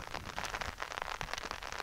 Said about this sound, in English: Just thought we'd step over here while it was raining. It's really pretty seeing the water hit the surface